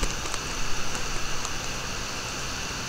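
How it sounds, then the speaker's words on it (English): Steady rain hissing down during a fuel-loading outing, a dense broadband patter with scattered brief drop taps, constant and moderately close, with no voices. "Oh crap, it's raining."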